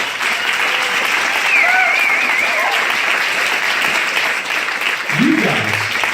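Audience members at a Beachbody Super Saturday event clap steadily, a loud, continuous wash of applause that holds throughout with a few whistles over it.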